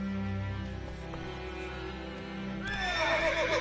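A horse in The Witcher 3 neighs loudly in one whinny near the end, following a steady low game ambience with faint hoof clatter.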